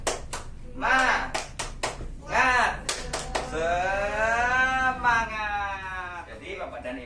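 A seated audience claps in sharp rhythmic bursts for a spirited group clapping chant at a community health session, then joins in a drawn-out loud collective shout, the claps returning briefly afterward.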